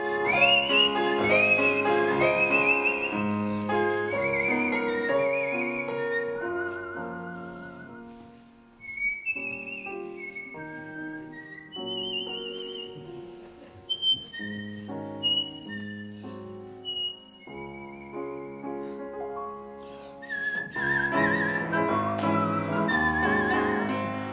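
A person whistles a lively melody alone, clear and close, with rapid trills and sliding notes in phrases that pause briefly midway before resuming fuller near the end.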